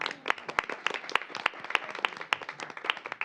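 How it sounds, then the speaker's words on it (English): Applause at a city council meeting: a small group claps in scattered, uneven bursts with sharp individual hand claps standing out, moderately quiet and close, with no talk over it. "let's give her a round of applause"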